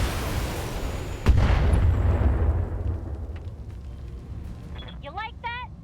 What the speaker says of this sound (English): she'll throw in the missile as well